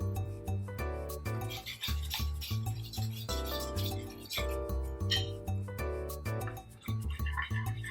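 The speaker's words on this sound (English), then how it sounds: "Let it cook for a little while and just keep stirring." A spoon or whisk stirring brown gravy made from scratch in a pan, producing continuous close scraping and rubbing against the metal with light clinks.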